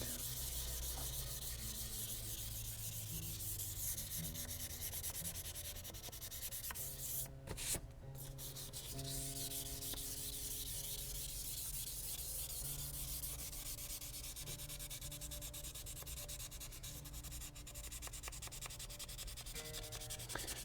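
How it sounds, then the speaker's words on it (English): Sandpaper scuff sanding the finish on the back of a guitar neck, a close, quiet, continuous rubbing with steady back-and-forth strokes and a brief pause midway. "You're just scuffing up the finish that's there."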